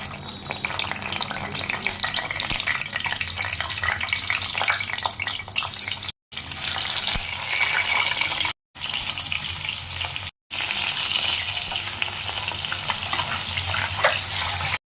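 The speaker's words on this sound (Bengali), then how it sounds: "সর্ষের তেল, ডিমগুলোকে হালকা করে ভেজে নেব।" Eggs frying lightly in hot mustard oil for a Bengali egg curry, a steady close crackling sizzle that runs continuously apart from a few brief cuts.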